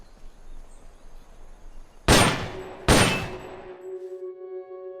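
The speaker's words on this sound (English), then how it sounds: "You hear that? Gunshots!" Two sharp, loud gunshot blasts about a second apart in Metal Gear Solid: Peace Walker on PSP, each ringing out briefly, followed by a lingering tonal hum.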